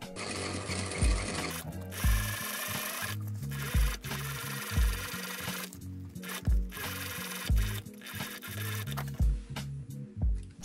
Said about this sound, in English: I can actually go ahead and top stitch this whole seam from the waist all the way down to the hemline